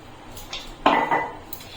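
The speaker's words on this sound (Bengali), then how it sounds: "গ্যাসটাকে লোতে রেখে ময়দাটাকে হালকা একটু নেড়ে নেবো" A spoon or spatula scraping and clinking inside a kadai holding dry flour on low gas, a few close metallic knocks and scrapes with one louder clatter midway, no talk.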